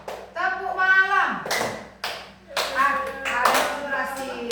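Children play a rhythmic hand-clapping game, with bursts of claps between chanted and spoken voices of children and an adult.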